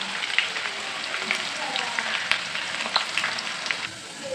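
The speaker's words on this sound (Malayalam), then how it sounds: "ഓണിയൻ ഫ്രൈ ചെയ്യാനുള്ള ഓയിൽ ഇവിടെ ചൂടായിട്ടുണ്ട്. നമുക്കതിലേക്ക് ഓണിയൻസ് ആഡ് ചെയ്യാം." Onions frying in hot oil for chicken biryani, a dense, even crackle and sizzle close by, with scattered pops throughout.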